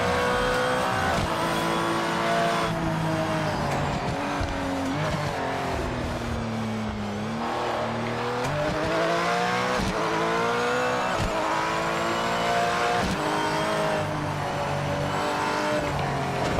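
Race car engine in a VR racing game, loud and continuous, its pitch sliding down under braking and climbing again through acceleration, with tire squeal mixed in and no talking.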